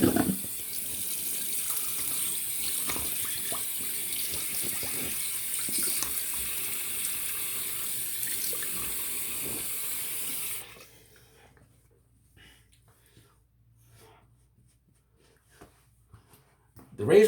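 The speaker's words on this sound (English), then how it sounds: "So I'm going to rinse my face off with cold water" Cold water runs steadily from a bathroom tap for about ten seconds while someone rinses their face, then the flow stops, leaving a near-silent room with a few faint drips and small sounds.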